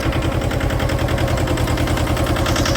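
A Mahindra Jivo 225 DI 20 hp mini tractor with power steering and side-shift gears runs close by, its diesel engine chugging in a steady, loud, rapid rhythm without pause.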